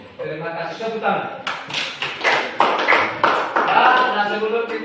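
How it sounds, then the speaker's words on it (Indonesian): Children in a classroom clap in a rhythmic series of claps, repeated beats mixed with voices chanting or talking along. "Terima kasih, tepuk tangan."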